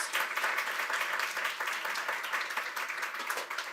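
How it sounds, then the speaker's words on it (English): A room full of people applauds a doctor being welcomed onstage at an education event in New York, a steady unbroken wash of clapping throughout. "Give her a round of applause, Dr. Danica Rux"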